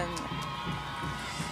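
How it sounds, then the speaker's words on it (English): Iowa fans in the stands cheer at a Big Ten women's soccer match against Michigan State, a brief, fairly faint crowd roar under a commentator's talk. "you can see the Iowa fans standing up, cheering on their girls"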